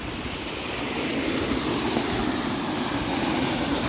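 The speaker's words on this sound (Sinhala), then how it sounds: "මෙතන වතුර පාරක් යනවා guys මේ." A steady, broadband rush of a water stream flowing over rocks at a forest bathing spot, continuous and fairly close with no voices.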